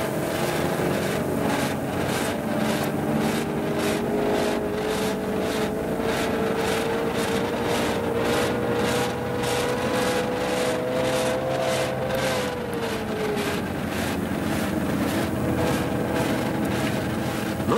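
A Wartburg car engine runs steadily with a rising and falling drone, the pitch climbing gradually and then dropping, with a rapid rhythmic pulsing throughout.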